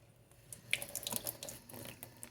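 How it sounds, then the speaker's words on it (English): Tap water runs into a sink in a steady stream, a continuous splashing flow with brighter spattering and drip-like detail rising in the middle, fairly close and alone without talk. "So, let's turn on some water here."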